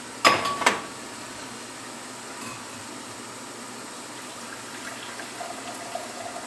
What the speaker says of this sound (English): Now we are going to pour off some of our brine.